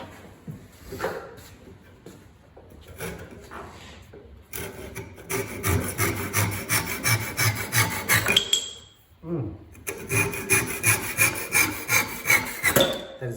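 A back saw cuts through wood in steady rhythmic strokes, pausing briefly midway before resuming its rasping back-and-forth.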